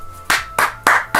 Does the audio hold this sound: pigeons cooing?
no